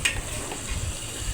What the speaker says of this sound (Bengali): বসিয়ে দিয়ে ঢাকনাটা সরিয়ে আমি এখন মাংসটা নেড়ে ছেড়ে দিচ্ছি।